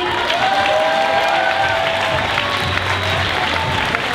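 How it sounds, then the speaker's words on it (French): Sustained audience applause fills a theatre at a national improv final, dense and steady from start to finish with some cheering mixed in, no voices standing out. "on peut les applaudir"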